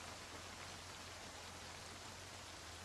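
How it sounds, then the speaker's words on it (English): Steady rain falls in Project Zomboid, the zombie survival game, set in the town of Muldraugh: a soft, even hiss of drops that holds unbroken throughout at a low, distant-sounding level, with no talk. "it's annoying with the rain noise"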